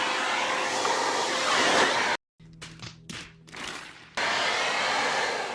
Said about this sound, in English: Turn on the vacuum, so it's gonna be a little noisy